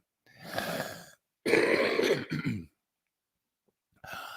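A person coughs and clears their throat in a few rough, harsh bursts separated by short silences, close and fairly loud.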